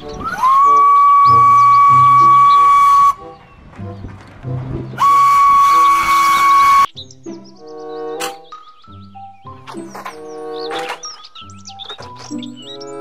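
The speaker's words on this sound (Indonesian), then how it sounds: "Kereta Thomas." A toy Thomas steam train whistle gives two long, steady shrill blasts, followed by busy clicking, whirring toy noises.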